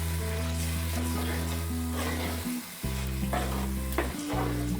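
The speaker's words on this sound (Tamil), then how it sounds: "சேர்த்துட்டு இதை நல்லா கலந்து விட்டுக்கோங்க." Lamb liver being stirred and mixed in a hot pan for a curry, with a steady close sizzle of frying and the scrape of a spoon turning the pieces, no talking.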